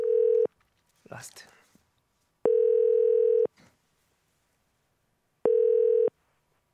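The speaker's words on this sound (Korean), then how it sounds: "46분 50초에 전화를 걸기 시작하도록 하겠습니다" Telephone dial tone during a call placed live on a Korean radio show: three steady tone bursts separated by gaps, with a brief spoken word between the first two.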